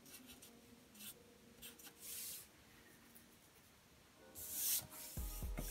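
Pencil or pen strokes scratching across paper while sketching fold lines on a shirt collar for a JoJo's Bizarre Adventure character drawing, soft intermittent rubbing and scribbling bursts, close and quiet, with a louder scratchy stroke near the end.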